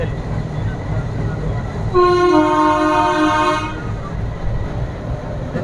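Train horn sounding for about two seconds over the steady rumble of passing trains, moderately near, with no talk.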